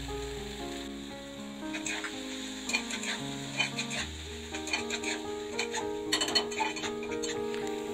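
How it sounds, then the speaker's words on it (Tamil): Tomatoes and coriander leaves sauté in a kadai for kara chutney, sizzling steadily with intermittent spatula stirs and clicking scrapes that get busier toward the end, under soft background music. "தக்காளி ஓரளவுக்கு வதங்கிட்டு இருக்கும் போதே கொஞ்சம் மல்லி இலையை சேர்த்துக்கலாம்."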